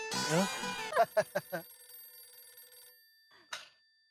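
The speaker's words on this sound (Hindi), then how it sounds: "किसका फोन है?" A bell-like telephone ring from the sitcom Taarak Mehta Ka Ooltah Chashmah sounds in several quick pulses with a lingering tone, then another short ring, following a brief burst of voice at the start.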